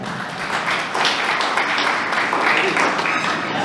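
Applause from an audience at a community picnic gathering, a steady wash of clapping lasting a few seconds with voices mixed underneath.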